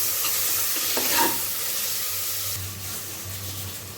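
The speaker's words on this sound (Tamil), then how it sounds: "தக்காளி போட்டு லைட்டாக கிண்டி விடலாம்." Tomatoes stirred into hot oil in a pan for a Tamil feast dish, giving a steady sizzle with a few scraping stirs, close and moderately loud, no voices.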